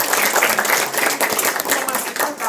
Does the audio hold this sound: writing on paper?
no